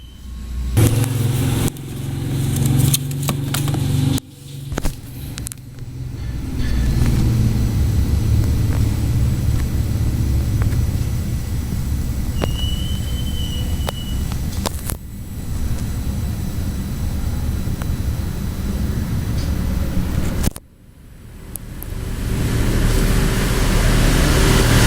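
A motorcycle engine runs after an oil change with a loud, steady drone for most of the stretch. It drops briefly several times, then returns.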